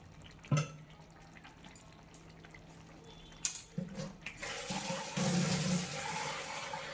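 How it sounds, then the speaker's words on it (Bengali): Water is poured into a pan of yogurt chicken curry: a sharp knock, a quiet stretch, then a close splashing pour that builds and keeps running steadily to the end, with no voices. "আমরা অ্যাড করে দিচ্ছি জল। পরিমাণ মতো জল।"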